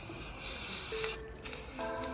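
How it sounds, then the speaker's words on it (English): A spray can of self-etching primer hisses steadily onto metal, close and loud, then pauses briefly before spraying resumes; no one speaks. "So again, if you're spraying on metal, self-etching primer first so it'll bite."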